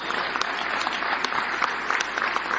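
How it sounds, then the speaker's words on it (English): Steady audience applause fills a room at a prayer breakfast, dense and continuous with scattered sharper claps, moderately loud and without speech over it. "The applause I've been waiting so long for"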